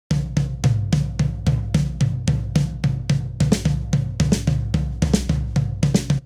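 A rapid drum rudiment alternating between two drums of different pitch, steady even strokes in a quick continuous pattern, close and loud.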